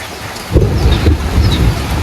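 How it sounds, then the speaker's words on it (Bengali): A deep rumble of thunder rolls under steady rainfall, loud and close, with no voices. "আজকে কিন্তু অনেক বজ্রপাত হইতেছে"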